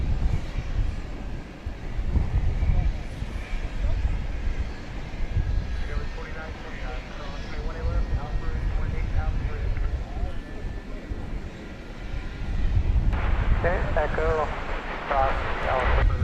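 At DFW Airport an airplane waits with its nose pointed for a west side departure, its engines giving a steady low rumble with wind noise while a person talks over it.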